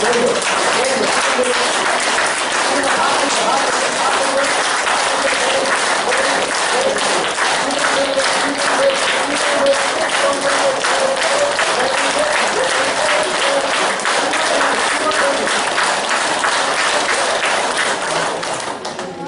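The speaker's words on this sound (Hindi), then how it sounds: "Just watch me and then will do it together and then clap." An audience claps hands together in dense, continuous applause at a motivational talk, loud and steady throughout before easing off at the very end.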